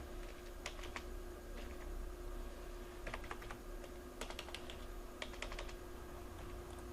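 Computer keyboard keys clicking faintly during photo editing work, a scattering of light taps and short quick runs over a steady background hum, with no talking.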